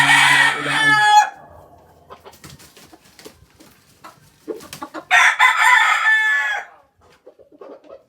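Two loud fighting roosters crow on a farm, one at the start and another after a pause, with faint clucks and scattered small noises in between.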